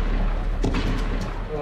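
Firework rockets bang in quick succession, two or three sharp reports heard at a distance over steady background rumble, with voices heard faintly underneath.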